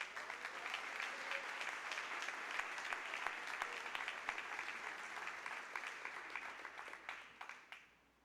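A church congregation at a Thursday worship service claps in sustained, fairly even applause that holds for several seconds and then tapers off.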